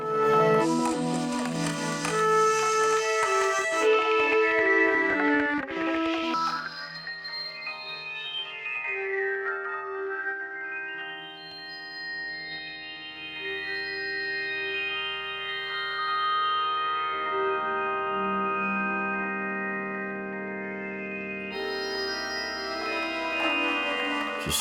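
A resonant synthesizer tone from a Torso S-4 sweeps slowly, its bright filtered harmonics rising and falling over sustained notes, with echo and reverb trailing throughout.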